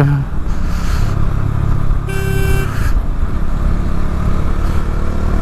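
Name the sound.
motorcycle engine riding fast downhill in high gear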